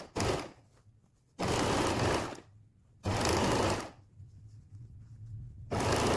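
A sewing machine stitches the side seams of a quilted waistcoat in four loud, close bursts of rapid whirring, each about a second long and separated by short quiet pauses.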